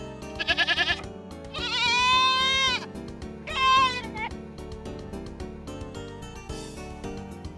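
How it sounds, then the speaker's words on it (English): A goat bleats in a children's animal guessing game, giving a few loud, wavering harmonic calls in short bursts over a steady musical backing, with no voices in between. "Goat."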